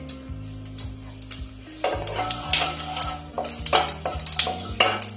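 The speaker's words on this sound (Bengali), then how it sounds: "লঙ্কা একটু লাল হওয়া পর্যন্ত একটু নাড়াচাড়া করে নেব তেলের মধ্যে" Dried red chili and whole cumin fry in oil while being stirred, a close crackling sizzle with metal utensil scrapes and taps against the pan, growing busier after the first couple of seconds.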